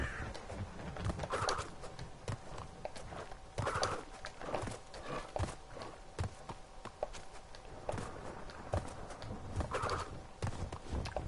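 Game audio from a Crash Bandicoot level: bird calls repeat at intervals over a busy bed of clopping footsteps and rhythmic level sounds, with no speech.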